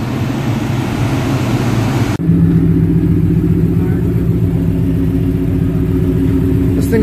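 A stock BMW S63 engine idles and runs on a dyno with a loud, dense rumble, a brief dropout partway through, then a steadier, heavier drone continuing to the end.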